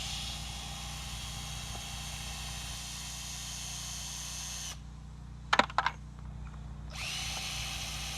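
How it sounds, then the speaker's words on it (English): A power drill whines steadily as it backs screws out of a garden border in a yard. The drill drops away briefly, and a few sharp metallic clinks of screws falling into a bucket sound before the drilling resumes. "We're going to take these first screws out. Putting those in a bucket here."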